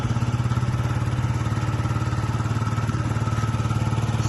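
A Yamaha Jog SA39 fuel-injected scooter engine idling steadily up close, a fast even putter with a rhythmic pulse throughout and no revving.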